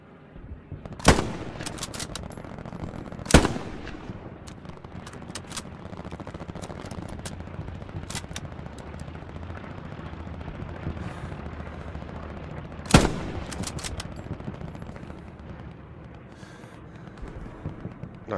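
Gunfire in the World War II shooter Hell Let Loose, MG42 machine gun and K98 rifle: a few loud, sharp shots stand out over a steady rumbling battlefield background of distant firing and explosions.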